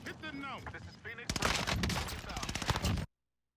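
Airstrike in Call of Duty Warzone: a dense run of loud blasts and rapid cracks erupts after a quieter opening with chirpy game sounds, pounding on for nearly two seconds before cutting off.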